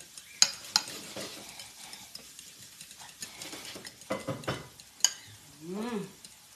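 Bitter gourd (ampalaya) fries in a pan while a spatula stirs and scrapes it in quick, uneven strokes over a soft sizzle, with a few sharper clacks and a brief voice near the end.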